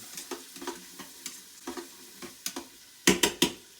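Seasoned chicken mixture is stirred in a hot pan, with soft sizzling and a series of scraping utensil strokes, ending in three louder, sharper scrapes.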